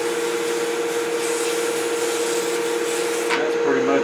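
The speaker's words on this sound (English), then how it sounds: "we're probably going to touch it up with just a little bit of sandpaper here." Sandpaper rubbing against wood spinning on a wood lathe, a steady close whirring hiss with the motor's hum underneath, continuous throughout with a brief scrape change near the end.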